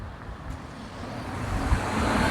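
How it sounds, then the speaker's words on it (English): Road traffic on a city street, with cars rolling past close by in a steady wash of engine and tyre noise that builds slightly toward the end, and no voices. "I'm taking you on me as I try to cross all the traffic."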